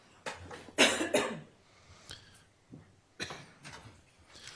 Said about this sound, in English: There are more people coughing today.